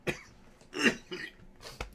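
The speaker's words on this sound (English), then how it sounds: "Corona cough. That's not good." A man coughs during a live betting stream, giving a few short, quiet, dry coughs and throat sounds spaced over two seconds, close to the microphone.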